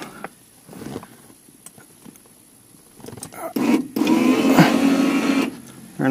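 A Porsche 928 sunroof motor whirs as it drives the sunroof, quiet at first and then a louder steady mechanical hum in the last couple of seconds.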